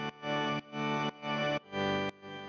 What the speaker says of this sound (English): You can really hear the distortion in the organ itself.